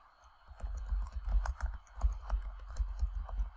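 Quick, close clicking of a computer keyboard as a search is typed into Canva templates, a brisk uneven run of keystrokes with no talking.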